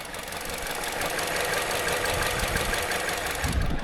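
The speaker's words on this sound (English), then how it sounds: "Seems like it's got a misfire to me" A Vauxhall Corsa engine with a misfire runs steadily nearby, a loud, rough idle with uneven knocking pulses throughout.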